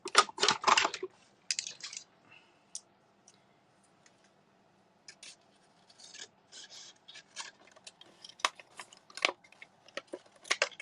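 Scissors snip and rasp through cardstock in short, close bursts between quiet pauses while a card is being trimmed for Stampin' Up! card making.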